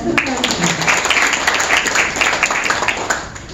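An audience at an inauguration ceremony for a fishing association's new president in a convention wedding hall gives a short burst of applause, many hands clapping loudly and then tapering off, with a voice faintly over it.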